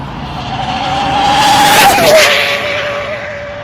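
A race car sweeps past, engine whining as it brakes, with a brief tire squeal near the middle before the sound trails off.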